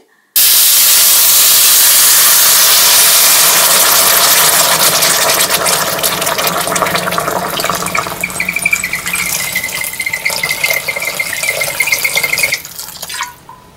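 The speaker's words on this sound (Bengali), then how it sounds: "তিন থেকে চার মিনিট ভাজা ভাজা করার পর এবার আমি নর্মাল জল দিয়ে দেবো" Plain water poured into a hot pan of frying jujube chutney with chilli powder, bursting into a loud sudden hiss of steam and sputtering that slowly fades over several seconds, with no talking.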